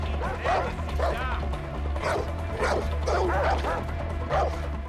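Dogs bark and yip repeatedly in Far Cry 4, a run of sharp, fairly close calls over a steady low game hum, with a voice speaking now and then.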